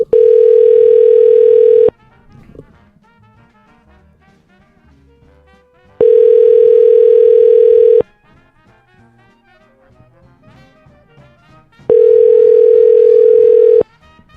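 A telephone call rings out on the line before going to voicemail: three loud, steady ringback tones, each about two seconds long, separated by roughly four-second gaps of near silence.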